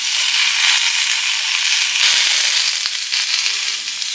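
Peanuts, tomatoes and curry leaves frying in hot oil in a Kolkata home kitchen, a loud, dense, continuous sizzle up close with a few faint clicks of stirring.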